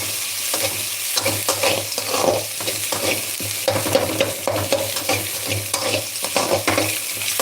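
Bottle gourd stir-fried in a pan for poriyal, with a steady close sizzle and repeated scraping stirs in an uneven rhythm, no voices.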